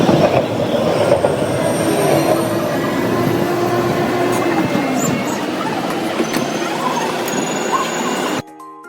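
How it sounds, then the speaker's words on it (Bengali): A tram riding on rails in France toward a metro station gives a loud, steady rolling rumble with faint wheel squeal and clatter, continuing evenly before cutting off abruptly near the end. "উঠে পড়লাম যানবাহনে এটি ট্রেনের মতো ট্রেন লাইনের মতো চলে"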